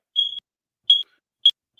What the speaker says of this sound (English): I'm hearing a smoke detector on epic proportions.